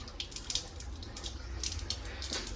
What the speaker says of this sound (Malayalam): ഈ ഒരു ബട്ടൺ പ്രസ് ചെയ്താൽ മതി. വെള്ളം വരും.